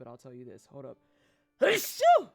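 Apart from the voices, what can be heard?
sneeze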